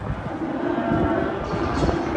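Angus steers mooing at a cattle sale, a low drawn-out moo with other cattle lowing nearby in a noisy yard.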